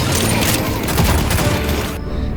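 A slam fire gunshot skill effect from the game Limbus Company: a loud, dense burst of rapid booming shots rolling together for about two seconds, then cutting off abruptly.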